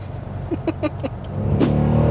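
A Dodge Durango R/T engine rises from a low idle rumble into a deeper, louder rev as the accelerator is pressed lightly, heard from inside the vehicle with brief knocking sounds beforehand.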